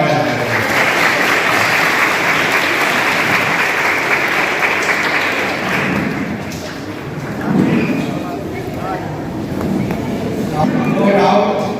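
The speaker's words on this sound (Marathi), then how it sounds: "त्याच्यासाठी जोरदार टाळ्या." A large crowd at a school alumni gathering claps in sustained, dense, loud applause that dips briefly midway and then swells again, with no pause throughout.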